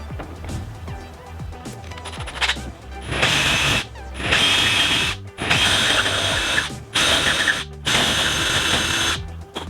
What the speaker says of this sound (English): Now that the holes are drilled